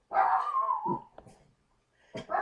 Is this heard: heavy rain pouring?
no